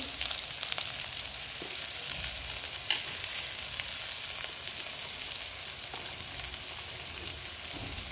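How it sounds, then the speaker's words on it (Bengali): Potatoes frying in a pan with salt and turmeric added, a steady close sizzle and crackle running without a break, with a few faint stirring scrapes and no talking. "এবার আলুটাকে একটু ভেজে নেব।"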